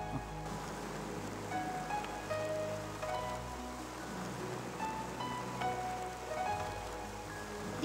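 Steady rain falls continuously on surfaces, a dense even wash of patter that stays loud and unbroken throughout with no voices.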